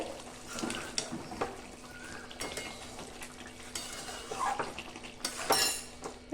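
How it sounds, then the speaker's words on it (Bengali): Achari chicken is stirred and sautéed in a pan over high flame: scattered spatula scrapes and metallic clinks rise over a soft background sizzle, fairly quiet and near, with no talk. "গ্যাসের ফ্লেমটা একটু হাই করে দিয়ে মাংসটাকে কষিয়ে নেব।"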